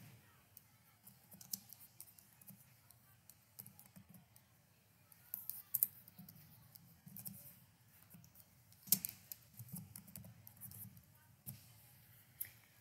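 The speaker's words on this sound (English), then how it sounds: "Now we can start typing our heading." Typing on a computer keyboard while working in MS Word: quiet, irregular key clicks in scattered bursts, faint over low room hum.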